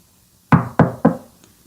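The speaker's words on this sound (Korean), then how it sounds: "노크 소리가 났다." Three quick, firm knocks on a door, close and loud, each with a short hollow decay, followed by quiet.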